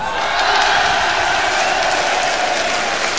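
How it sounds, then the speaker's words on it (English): A concert audience at a show applauds, with dense, loud, sustained clapping and a few faint cheers filling the whole stretch without pause. "Give yourselves a clap."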